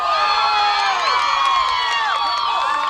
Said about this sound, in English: It looks like the Husky team is cheering